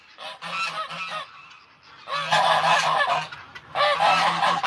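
Geese at an animal sanctuary honking in repeated bursts, several calls overlapping in loud clusters with brief pauses between, fairly close.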